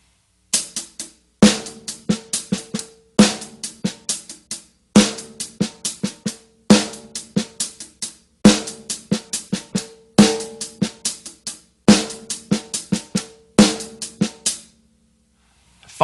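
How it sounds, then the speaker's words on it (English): A drum kit groove with a busy hi-hat pattern, quiet snare ghost notes and louder accented snare hits, repeated in several short two-bar phrases with brief gaps between them, close and clear with no talking. "I'm challenging you guys by adding some ghost notes and accented notes underneath this awesome hi-hat pattern."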